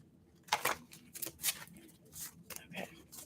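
A deck of angel number cards is shuffled in a few soft, papery bursts of riffling and flicking, close and quiet with short pauses between them.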